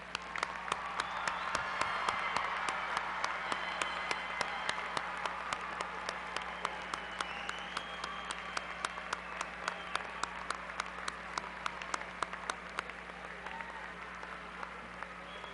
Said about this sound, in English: Let's give all our graduates a round of applause